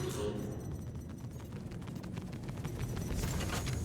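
Ship cannons on a Hurricane fighter in Star Citizen, aimed at a target in an asteroid belt, rattle out as a steady stream of rapid, low, thudding fire across the whole stretch, fairly quiet and continuous.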